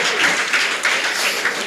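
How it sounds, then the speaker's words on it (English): An audience at a provincial teachers' union conference gives a round of applause, a brief, dense burst of many hands clapping at a moderate distance. "And I want us to give her a round of applause."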